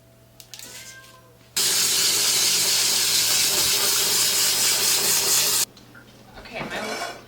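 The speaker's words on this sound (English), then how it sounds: "I have to measure and rinse off my rice." Water runs steadily over rice being rinsed and measured for a pressure cooker, a loud, even rush of about four seconds. Quieter handling and splashing come before and after it.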